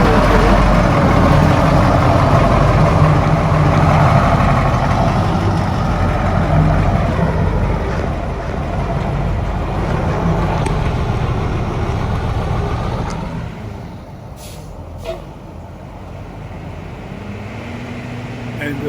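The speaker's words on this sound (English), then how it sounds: "the 74 Gillig 3208 cab with the reverse shift pattern 10-speed transmission" A 1974 Gillig bus with a 3208 engine and 10-speed transmission idles at a ride and drive event, a steady diesel rumble that eases off toward the end with a few faint clicks.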